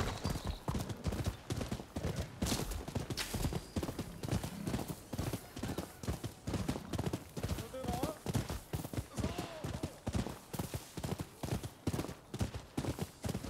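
Rapid rhythmic hoofbeats of a galloping horse in Rise of the Ronin run steadily throughout, loud and close, with occasional faint game-like tones layered over them.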